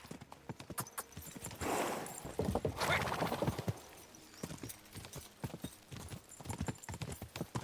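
Several horses gallop at full pace in a race in Kingdom Come Deliverance 2, with busy overlapping hoofbeats clattering throughout and a loud rushing swell midway.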